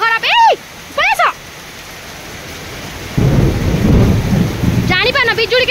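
Heavy rain pours steadily in a village during a thunderstorm, with loud thunder rumbling through the middle section and brief voices heard at the start and end.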